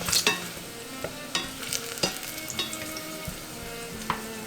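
Garlic and onion sautéing in oil for Mexican white rice, a constant close sizzle and frying hiss broken by scraping stirs and utensil taps against the pan, no voices.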